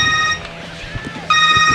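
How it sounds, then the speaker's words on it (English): Telephone ringing during a podcast recording, an electronic ring that breaks off briefly and then resumes, clear and close, with faint background noise. "Typical of John to get a phone call right in the middle of something"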